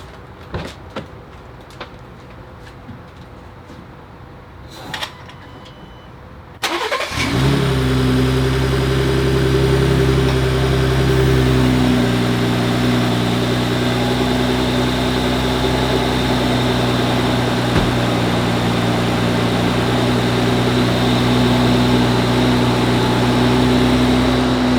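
A Gen 2 Ford Raptor engine, after a spark plug change, cranks and catches abruptly after a few quiet clicks, then settles into a loud, steady, close idle with a brief drop in revs.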